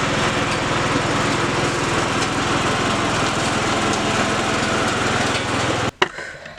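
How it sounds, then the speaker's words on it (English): A lawnmower engine runs loud and close with a steady buzzing drone, then cuts out abruptly near the end, leaving a brief clatter and quiet. "he asked me to help fix his lawnmower"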